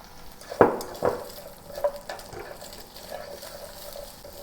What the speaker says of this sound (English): to saute the garlic and the onion